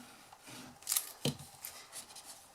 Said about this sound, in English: So just a tiny snip there, and then I'm going to repeat on this side.